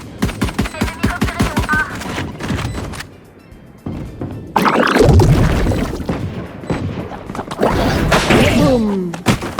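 In the Valorant video game, rapid ticking beeps build up before the planted spike detonates in a loud, booming explosion with a long rumbling tail, followed by further bursts and game effects.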